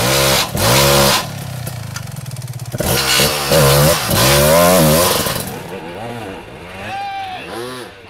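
Several Christini all-wheel-drive two-stroke 300 dirt motorcycles rev hard and race past at close range, their high buzzing engines rising and falling in pitch as they accelerate and shift, loud throughout before one fades away.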